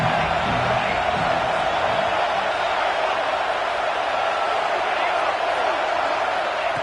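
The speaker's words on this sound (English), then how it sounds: "3rd down and the crowd really getting into it." A stadium crowd roaring on third down at a Texas A&M football game, a dense, steady wall of cheering and noise with no breaks, distant and loud throughout.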